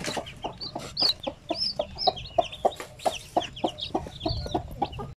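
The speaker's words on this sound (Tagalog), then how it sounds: "yan yung kanyang mga sisiw, oh." A Basilan hen clucks in a steady run of soft, close calls while her newly hatched chicks peep high and thin around her.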